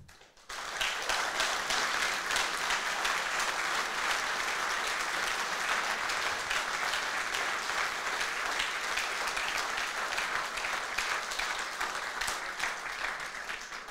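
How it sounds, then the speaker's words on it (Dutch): A large audience at a mayor's New Year's speech in Dordrecht gives sustained, dense applause for rescue workers, starting abruptly and holding at an even, full level before easing slightly near the end. "geweldig warm applaus voor hen."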